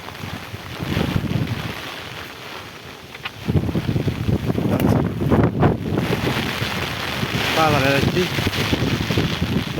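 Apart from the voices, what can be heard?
stormy wind outdoors in rain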